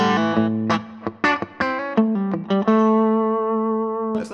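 Electric guitar playing a short run of bright, slightly distorted single notes, then holding one sustained note that rings out until the end.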